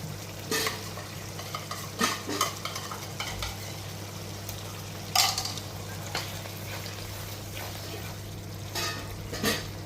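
Tomato paste frying and being stirred in a curry, with a steady low sizzle and scattered scraping stir sounds throughout, close up and with no talking.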